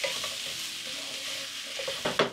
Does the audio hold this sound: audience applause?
no